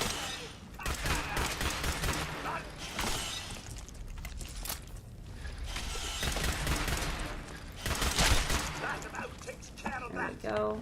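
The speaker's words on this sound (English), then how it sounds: "Damn it, I'm shooting the wall." Rapid gunfire in the video game Fallout 4 striking a wall, dense bursts of close, loud shots with cracking impacts, pausing briefly before another burst.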